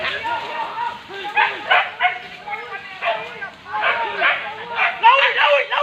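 Dog barking and yipping in bursts outdoors during a wild boar hunt, mixed with several people talking and shouting over it.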